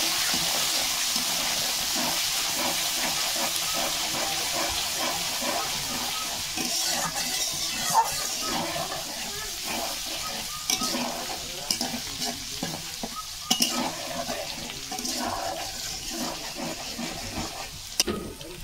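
Onion and garlic paste frying in hot oil in a pan for a duck curry, sizzling steadily throughout while a utensil stirs and scrapes it in irregular knocks, louder near the end.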